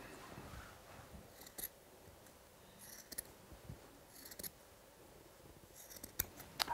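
Scissors snipping through the steek of a knitted wool cardigan, soft close crisp cuts in small clusters spread over several seconds, quiet against faint room noise.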